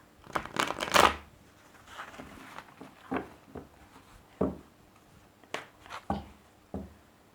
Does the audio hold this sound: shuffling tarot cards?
yes